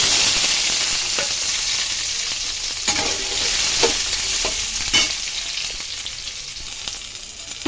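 Fried potatoes tumble into a pan of sizzling spice paste for a vegetarian potato-paneer dish, giving a steady loud frying hiss with a few sharp crackles and stirring scrapes throughout.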